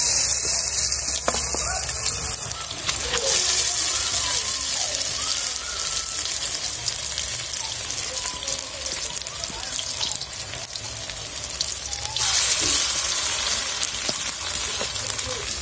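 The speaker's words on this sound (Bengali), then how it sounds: "বড়াগুলি ভাজা হবে" Pumpkin flower fritters, batter-coated with chili and turmeric powder, fry in oil in a kadai with a steady, dense sizzle and crackle that lasts throughout, up close.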